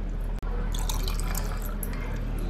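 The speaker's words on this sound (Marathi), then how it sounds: "सुळसुळ सुळसुळ आवाज येता." Masala buttermilk is poured over ice cubes, a steady close liquid stream with trickling, bubbling texture, after a brief cut near the start.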